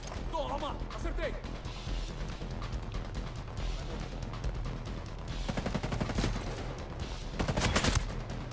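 Gunfire from the video game Ghost Recon Breakpoint: repeated sharp shots and bursts throughout, with louder cracks near the end, mixed under game ambience and a voice talking.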